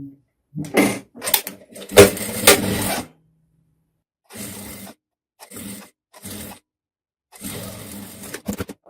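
A sewing machine stitches the inside of a dress neckline facing in short bursts, loud close runs separated by silent pauses as the fabric is repositioned.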